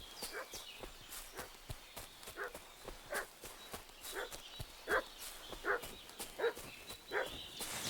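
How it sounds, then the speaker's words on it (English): Dog barking repeatedly in Kingdom Come: Deliverance II, a series of sharp medium-distance barks spaced at an uneven rhythm over outdoor ambience and faint footsteps. "What's that dog making such a fuss about?"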